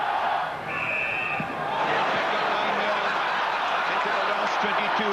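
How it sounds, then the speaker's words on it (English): Rugby crowd in a stadium singing Swing Low, Sweet Chariot before a match, a broad, distant wash of massed voices with a commentator talking over it. "The match is about to start and the crowd are singing E.O. Sweet Chariot"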